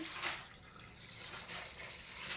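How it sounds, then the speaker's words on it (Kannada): Water is added to a cooking pot of palak and methi greens dal, a faint, steady splashing pour over soft background hiss, with no voices. "ಇದಕ್ಕೆ ಸ್ವಲ್ಪ ನೀರನ್ನು ಸೇರಿಸ್ಕೊಳ್ಳಿ"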